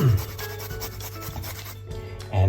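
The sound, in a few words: grating ginger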